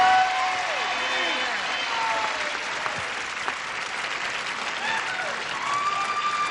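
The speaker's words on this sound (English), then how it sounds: "would you join me in giving a brisk round of applause" Studio audience of a TV game show breaking into a brisk round of applause, a full, steady roar of clapping with a host's voice speaking over it.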